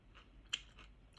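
Quiet close-up chewing of stir-fried bell pepper with a few crisp crunches, one sharper bite standing out midway, no talking.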